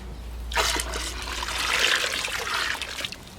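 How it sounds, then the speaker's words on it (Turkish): About two litres of grape juice pours from a container into a cauldron set on the ground for making pekmez, a close, continuous splashing gush lasting a few seconds. No speech. "Şıra dediğimiz önden ayırmış olduğumuz üzüm suyunu döküyoruz."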